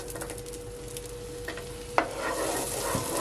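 Chopped onion dropped into melted fat in a pan, a soft hiss that swells into a steady sizzle after a sharp clatter partway through, fairly quiet and close, with no talking.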